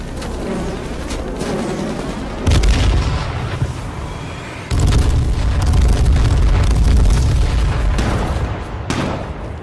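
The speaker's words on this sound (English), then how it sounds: "Oh, they throw airstrike." Heavy airstrike explosions in the H1Z1 video game, deep booming blasts arriving in loud surges one after another, with sustained rumbling between impacts.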